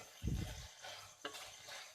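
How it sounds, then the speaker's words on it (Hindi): A coconut and milk mixture stirred continuously in a pan as the milk nearly dries: a soft scrape of the spoon and a gentle, faint sizzle, quiet and close. "अब हम इसे मुसलसल हिलाते रहेंगे"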